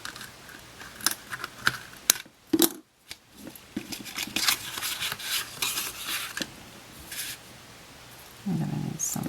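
Scissors snipping material during assembly of a Cricut paper-craft mailbox, several quiet separate cuts and rustles scattered across the clip, close up, with handling noises in between.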